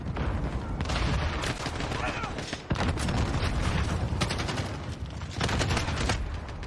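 Gunfire in Modern Warfare on the Shipment map, with repeated close bursts of automatic fire and explosive booms coming in waves over several seconds, loud and continuous.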